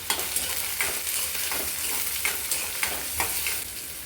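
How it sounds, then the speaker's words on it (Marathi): Finely chopped onion sautés in hot oil with cumin and mustard seeds, a steady loud sizzle broken by regular scraping stirs of a spatula in the pan. "बारीक चिरून घेतलेला कांदा तो आपल्याला छान गुलाबी रंगा होईपर्यंत परतायचा आहे"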